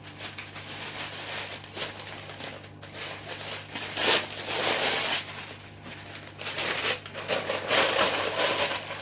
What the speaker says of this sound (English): Give it a good scrunch.